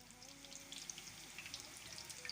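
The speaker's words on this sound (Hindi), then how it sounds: "टिक्कियों को हम अब फ्राई कर लेंगे।" Chapli kabab patties, Peshawari style, frying in a pan with a steady, quiet crackling sizzle full of small pops. There are no voices.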